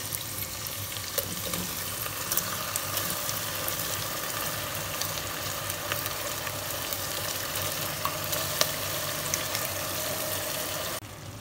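Chicken sautés in hot oil in a pot for chicken handi, a steady, close sizzle and crackle with faint stirring, continuing evenly throughout with no talking.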